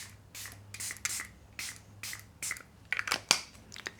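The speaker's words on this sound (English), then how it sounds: "The setting spray I'm doing is Powder Melt." Powder Melt setting spray misted onto a face in a string of close, breathy hissing pumps, some spaced and some in quick pairs, with small handling noises between them.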